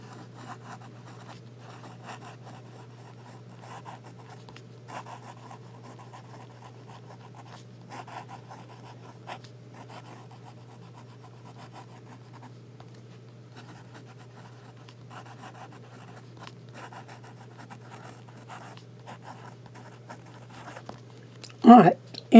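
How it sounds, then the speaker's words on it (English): A Duckbill Gothic nib pen scratches across paper in faint, soft, irregular strokes, close and quiet against a low background hum. "You can feel the nib on paper, but it's not going to tear up the paper"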